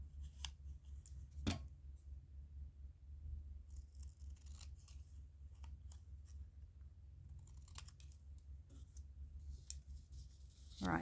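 Scissors snip through strips of soft antique music paper, a few crisp isolated cuts spaced out over quiet room tone, close and fairly faint, with no speech.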